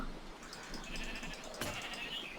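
Sheep bleating in the video game Minecraft, a few close, steady bleats over a constant hum of background game ambience, with no talking.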